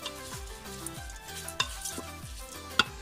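Rhythmic scraping strokes of a spoon through washed raw rice frying in a hot pot, with a steady sizzle underneath and a couple of sharp metallic clinks.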